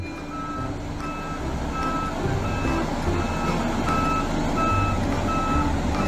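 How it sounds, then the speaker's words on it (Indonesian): A toy roller truck sounding steady, evenly spaced reversing beeps over a loud continuous rumbling motor hum, close and constant throughout. "Ini truk roller."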